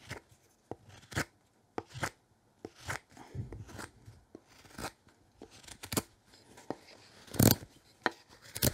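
Close, crisp shaving cuts from a sharp knife working seasoned timber, each stroke a short dry crunch, repeated in an irregular rhythm against a quiet background.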